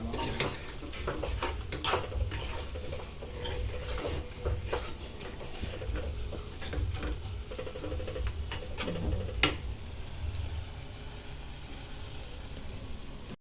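Chicken frying in a pan while a spatula stirs it, with a steady low sizzle under irregular metal scrapes and taps on the pan, close, ending in a quieter stretch of plain sizzling, no talking.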